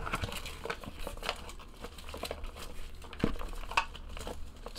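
Baseball card packs of 2017 Topps Luminaries being shuffled and mixed by hand, a steady crinkling rustle of foil wrappers with small taps and clicks, close and fairly quiet.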